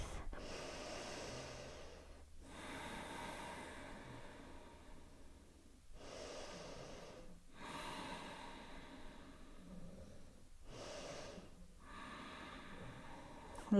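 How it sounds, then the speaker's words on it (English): Deep yoga breathing with full, slow exhalations, each long breath rising and falling in a steady cycle, four or five close, soft breaths separated by brief pauses, with no talking over them. "Nice, complete exhalations"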